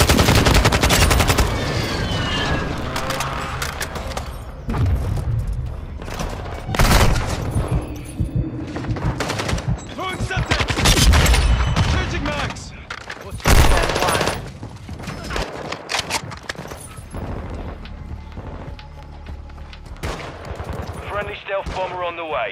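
Dense gunfire from the video game Call of Duty: Modern Warfare 2 fills the whole stretch, sustained automatic bursts with heavy booms and thuds, loud and continuous, along with game voice callouts.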